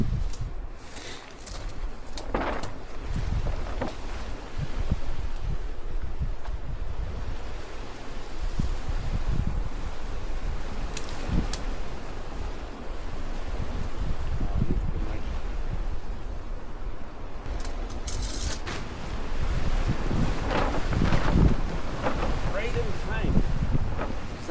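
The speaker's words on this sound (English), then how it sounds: "That wind has just piled up." Strong, gusting wind buffets the microphone at an outdoor wild camping spot, a loud continuous roar that surges louder toward the end, with occasional faint voices underneath.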